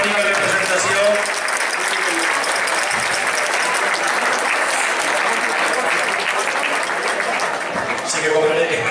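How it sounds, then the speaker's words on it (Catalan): An audience at a regional gathering in Cervera, with a folk dance group present, gives loud, dense, sustained applause from start to finish. "Un fort aplaudiment per a elles"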